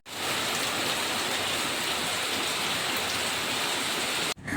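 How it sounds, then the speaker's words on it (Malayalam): Heavy rain pours steadily outside, a loud, dense hiss of drops drumming on surfaces that holds constant throughout with no voices, cutting briefly near the end. "മഴ തോരാൻ വേണ്ടിട്ട് നോക്കി നിന്ന് മഴ ഉറച്ച് പെയ്യുന്നതല്ലാതെ മഴ തോരുന്നില്ല കേട്ടോ"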